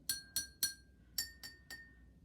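Water-filled glasses of a homemade xylophone struck one after another, six bright ringing clinks in two groups of three, each tone decaying quickly, close up and alone.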